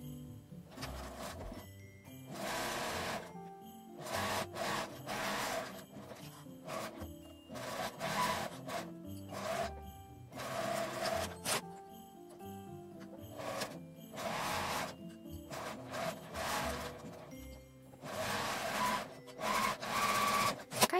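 A sewing machine stitches fabric for a neck warmer with a fairly long stitch, running in repeated short bursts with clicks and rustling between them, close and fairly quiet, with no talk.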